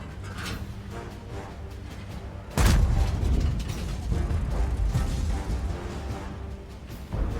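A sudden heavy tank explosion booms in World of Tanks-style battle, followed by rumbling and mechanical clatter, with more distant blasts continuing at moderate volume.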